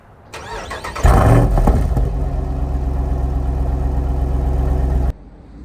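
Jeep Rubicon 392 with a lift and bigger tires starts with a short whirring crank, then the engine catches and roars loudly at a high steady rumble for several seconds before cutting off abruptly.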